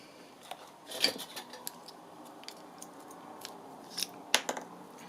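Scissors snipping through a paper piece for an altered book page, a few crisp, close cuts with brief pauses between them, no talking.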